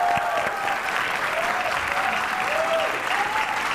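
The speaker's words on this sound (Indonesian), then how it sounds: "Tepuk tangan dulu buat tamu-tamu kita dong" A talk show studio audience claps steadily in sustained applause, a dense wash of hand claps with a few faint voices rising over it.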